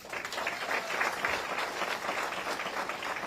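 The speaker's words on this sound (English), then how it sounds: "So can we give our partners a round of applause?" Steady audience applause for community partners at a Milwaukee event where students receive free laptops and school supplies, a dense even patter of many hands held at moderate level throughout without talk.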